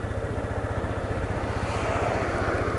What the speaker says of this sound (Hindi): आप देख सकते हैं, और बाइक चल रही है 11 की स्पीड में, ये चल रही है।